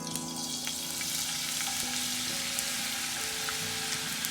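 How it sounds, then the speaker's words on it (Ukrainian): Steady, dense sizzling of potatoes frying in hot oil, with crackling pops over a continuous hiss. "У розігріту олію кидаю потрохи картоплі і жарю до золотистої шкуриночки."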